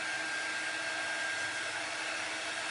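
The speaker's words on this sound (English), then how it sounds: "I'm going to hit it with the dryer real quick" A hair dryer blows steadily and loudly on chalk paste spread over a silk screen, a continuous broad whoosh with no pauses and no voices.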